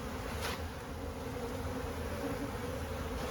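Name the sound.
honeybees buzzing in a small hive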